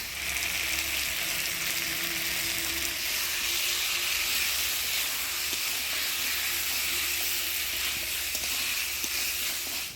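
Continuous bright hiss of ground spice paste frying in a hot pan for a Bengali fish curry with potato and pointed gourd, close and even throughout, with a faint low hum underneath.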